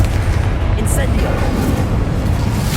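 An Incendio fire spell cast in Hogwarts Legacy combat: a dense, roaring burst of flame that sustains loudly for a few seconds over a busy, booming battle mix.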